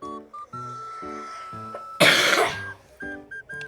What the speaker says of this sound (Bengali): আমি কাশিটা না দেওয়ার চেষ্টা করতেছি ভাই, কিন্তু আমার কাশি আমি কি করব?